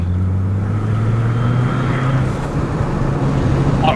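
Steady, loud engine hum heard from inside a moving car as it accelerates, with a low drone that climbs gradually over road noise.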